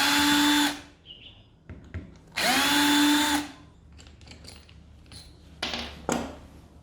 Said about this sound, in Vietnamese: Bây giờ mình sẽ tiến hành tháo tất cả những con ốc ở trên máy ra.